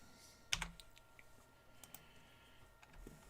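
Typing on a computer keyboard gives a few sharp, close clicks and scattered faint key taps over a quiet room hum.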